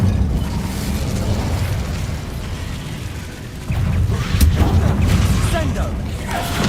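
In Hogwarts Legacy, the Incendio fire spell bursts with a loud, sustained roaring rumble over busy game sound, swelling midway with a heavier boom and crackle.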